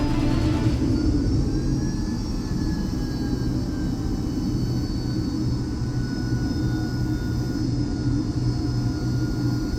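The Orbis flying hospital, a heavy jet, taxis toward the runway with a steady low engine rumble and a faint whine drifting in pitch, sustained and fairly close throughout with no voices.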